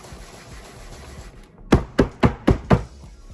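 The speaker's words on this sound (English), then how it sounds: "So now I'm just going to shake it, kind of level it out a bit." A filled pound-cake pan of blueberry white chocolate cream cheese batter is knocked against a counter to level it: five sharp, evenly spaced thuds after a quiet stretch, with no voices.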